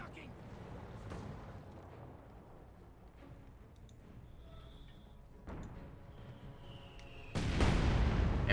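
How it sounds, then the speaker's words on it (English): In Company of Heroes 2, a mortar round sets off a mine: distant battlefield booms and rumbles build to a sudden, loud, close explosion at the end. "There we go, mortar sets off a mine accidentally."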